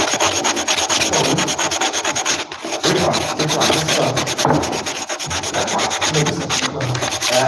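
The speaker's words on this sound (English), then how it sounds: "I'm smoothing out the edges with the sandpaper" Sandpaper rubbed steadily against the edges of a wooden craft piece, a loud close scratchy rasp in continuous back-and-forth strokes with only brief breaks.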